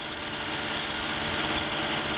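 A Kawasaki KMX 125 motorcycle engine runs steadily in Jyväskylä, a constant buzzing drone at even, fairly loud level with no breaks or revs, and no voices.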